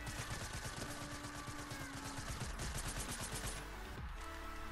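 Rapid automatic gunfire from a weapon being tested in a shooter video game, a dense, continuous burst of shots that stays loud throughout.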